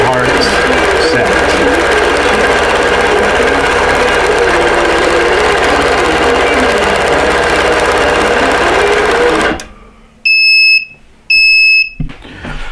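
A sewing machine quilts a fabric block with a loud, fast, steady mechanical hum that runs without pause before stopping abruptly, followed by a few short electronic beeps.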